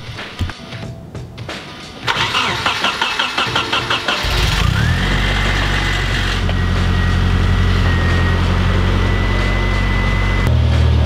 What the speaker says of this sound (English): Just starting this car, there was a lot of fuel additive blow by